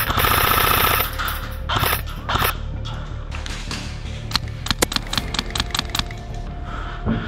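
Airsoft guns firing during an indoor skirmish in a building: sharp cracks and a quick cluster of shots, with hard clacks and scuffing close by.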